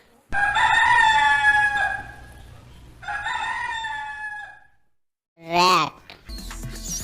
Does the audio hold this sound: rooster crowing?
yes